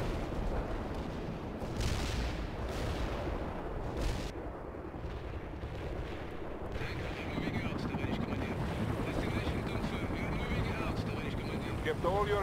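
Helicopters in the World in Conflict: Soviet Assault video game, a constant rotor-and-engine rumble mixed with distant artillery thuds and bursts of gunfire, with intermittent talk.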